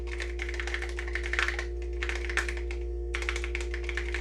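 Rapid typing on the membrane keyboard of a vintage Osborne computer with springs under the keys, a steady run of close, soft clacking keystrokes that pauses briefly near the end and then resumes over a constant electrical hum.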